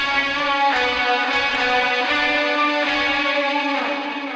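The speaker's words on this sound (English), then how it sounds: "So here's the guitar sound." Gothic post-punk electric guitar run through effects: sustained, chorus-rich chords ring with steady harmonic shimmer and rhythmic strums, loud and alone throughout.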